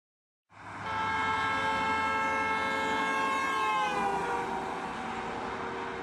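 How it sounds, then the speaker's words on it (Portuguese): A car horn blares continuously as the car passes a listener standing outside, its steady tone dropping in pitch partway through with the Doppler shift, loud and without speech. "E o carro passa emitindo som, passa buzinando"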